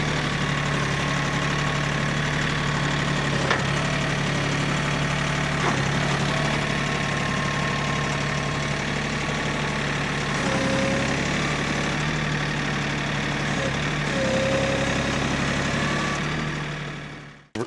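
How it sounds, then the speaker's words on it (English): A tractor engine idles steadily near a goat barn, a constant low diesel drone with a slight knocking character running unbroken for the whole stretch before cutting off abruptly at the end. "I'm going to pick it up with the tractor and bring it on to the cabin"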